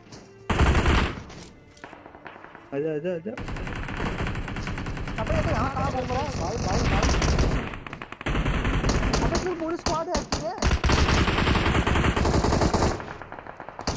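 Machine-gun fire and rapid gunshots crackle from a squad battle in a shooting game on a phone, long loud bursts with brief gaps, while excited players shout and talk over the shooting.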